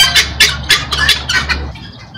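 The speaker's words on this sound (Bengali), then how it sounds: "ডাকতেছে মুরগিগুলো" Chickens at Riyadh Zoo squawk and cluck in loud, close, repeated bursts over a low steady hum, then fall quiet near the end.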